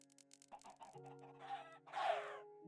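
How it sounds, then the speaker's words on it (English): Chickens cluck and squawk in Minecraft Bedrock Edition, a flock of many birds heard as scattered short calls building to a louder burst of clucking near the end. "That is a lot of chickens."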